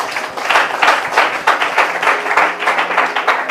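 Church congregation breaks into steady applause, a dense, even wash of clapping that continues throughout without letting up.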